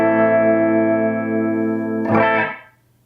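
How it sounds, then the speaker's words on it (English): Electric guitar chord strummed through a pedalboard of effects: a sustained ringing chord with a bright, harmonically rich tone, then a scratchy strum near two seconds before the sound is muted and cuts to near silence. "I can strum a chord, you can hear it."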